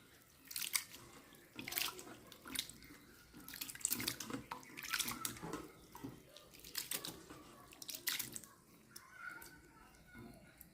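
Flattened rice (chira) is washed under water, with repeated splashing and swishing bursts as the flakes are rinsed by hand, fairly close and fairly quiet, with no talking.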